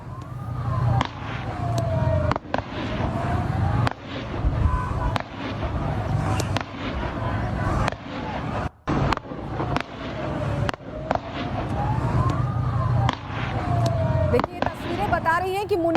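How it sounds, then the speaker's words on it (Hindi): Sirens wail and sweep in rising and falling tones, with sharp bursts that sound like gunfire cutting through, loud and continuous, in Pakistan-occupied Kashmir. "सीधे फायर कर रहा है उन पर"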